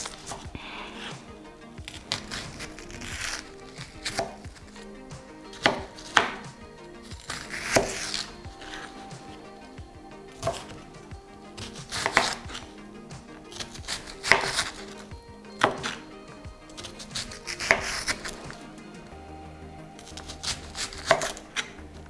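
A knife slices through an onion on a cutting board, giving a series of crisp chops at an irregular, unhurried pace, close and fairly quiet with soft pauses between cuts.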